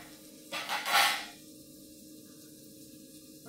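Onions frying in a little oil give a soft, steady close sizzle, with a brief louder burst of stirring and clattering near the start before settling back.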